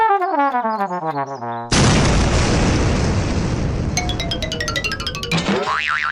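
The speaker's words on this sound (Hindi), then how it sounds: "बम सीधा हवा में उड़ता हुआ डाकू गोबर सिंह की तरफ बढ़ता ह" A cartoon bomb sound effect: a descending boing-like whistle as the bomb flies, then a sudden loud boom that trails off into noisy rumble, followed by bright twinkling tones and a final springy flourish.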